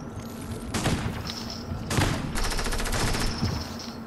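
Lever Action shotgun fire in Fortnite, several loud sharp blasts in quick bursts over steady game ambience, with a thin high tone sounding between shots.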